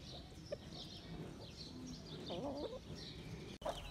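Aseel chickens cluck softly and intermittently amid low outdoor background noise, with no talking.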